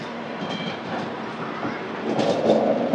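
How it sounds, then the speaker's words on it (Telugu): A train passes alongside on the next track in the dark near Renigunta station, a continuous rumble and rattle that grows louder toward the end. "మనకి పక్కన ఒక ట్రైన్ కూడా వస్తుంది."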